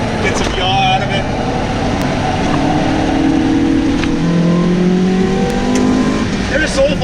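A stock Mazda Miata is driven flat out around a race track, its small engine droning steadily and rising with revs, while someone talks over it throughout.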